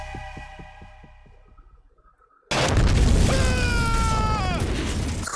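A rhythmic thumping gives way to a sudden loud blast that stays as a dense, roaring rumble, with falling tones sweeping through it.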